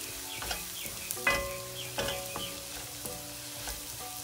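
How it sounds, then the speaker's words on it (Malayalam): Coriander powder is stirred into a mussel roast masala in a hot pan, a quiet steady sizzle broken by repeated scrapes and metallic clinks of the spoon against the pan, with no one talking. "ഒന്നര ടേബിൾ സ്പൂൺ മല്ലിപ്പൊടി ചേർത്ത് വന്നിട്ട് നമ്മൾ ശരിക്കും ഇളക്കിക്കൊണ്ടിരിക്കണം"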